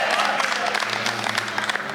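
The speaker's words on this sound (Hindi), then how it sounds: "इनके सम्मान में भी तालियां होनी चाहिए" Audience at a Hindi comic poetry gathering clapping steadily throughout, a dense wash of applause with a voice talking over it.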